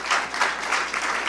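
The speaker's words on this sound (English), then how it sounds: "So please, another round of applause for our sponsors and our partners." Audience at an awards ceremony applauding for sponsors and partners: a dense, continuous wash of clapping from a crowd, fairly loud and steady across the moment.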